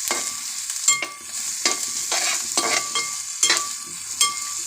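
Curry leaves sizzling in hot oil with onions and green chillies for a beef curry, a steady crackling fry broken by several sharp bursts as things are stirred, close by with no talk.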